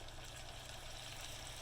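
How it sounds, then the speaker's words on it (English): Coconut water pours slowly into a cooking pot in a home kitchen, a soft, even liquid rush that holds steady throughout the short stretch. "I'm going to add the coconut water"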